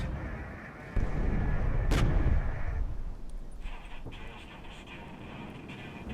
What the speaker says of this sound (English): Thermobaric missile strike.